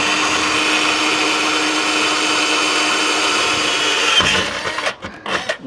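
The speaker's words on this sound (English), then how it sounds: "Using a 5/32 drill bit." A power drill with a 5/32 bit bores a hole through the casing for an awning bracket on a Ford Econoline van. It whirs loud and steady for about four seconds, then stops, leaving a few short bumps and clatters.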